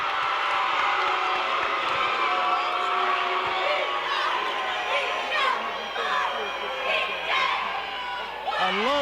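A packed crowd at a high school basketball game at Bethel High School, a loud continuous roar of chatter and shouting with swells of cheering, with commentators talking over it.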